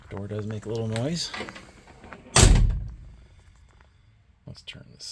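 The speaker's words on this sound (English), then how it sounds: "Door does make a little noise." A 1958 Plymouth Plaza car door shuts with one loud thunk midway, preceded by a brief voice and rustling and followed by faint clicks.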